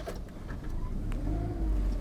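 2006 Suzuki Liana petrol car on a road test drive, its mid-pitched engine droning steadily and slowly building in rumble, heard from inside the cabin with no talk.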